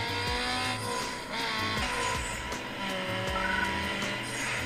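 Street-racing cars in a PS2 game running on the AetherSX2 emulator on an iQOO Z7 5G phone: loud, close engine roars and revving with repeated tire squeals and skids, and no voices.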